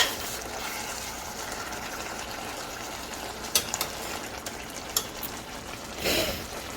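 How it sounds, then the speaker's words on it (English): A pot of zucchini stew bubbles and simmers steadily with a soft hissing wash, punctuated by a few brief clinks and a louder splash near the end. "The zucchini was boiling."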